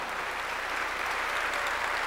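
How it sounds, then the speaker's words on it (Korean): Church congregation claps together in a steady, dense burst of applause, an even wash of many hands filling the hall with no break. "믿는 사람만 박수로 하나님께"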